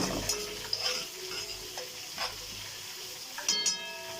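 Fish pieces frying in oil in a pan at home, a soft steady sizzle with occasional stirring clinks and a few sharper crackles near the end, fairly quiet and close.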